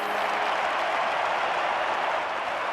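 Steady, dense applause and cheering from a large stadium crowd in the London 2012 Olympics video game, a continuous broad roar that holds level throughout with no talk over it.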